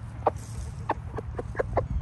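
A pure Aseel rooster clucks in a few short, separate bursts over a low steady background hum, fairly close but quiet.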